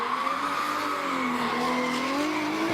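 A drift car screeches through a continuous, loud tyre squeal under a roaring engine during a professional qualifying run at Tauranga, with the pitch wavering as the car slides.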